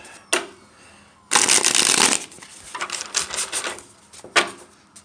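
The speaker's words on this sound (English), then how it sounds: "We'll shuffle it on camera once." A deck of tarot cards riffled and shuffled up close, several crisp papery bursts of flicking and snapping with brief pauses between.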